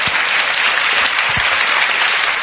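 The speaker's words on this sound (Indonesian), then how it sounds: "tepuk tangan buat orang Islam" An audience applauds in a dense, even burst of clapping that fills the whole short stretch at a loud, steady level.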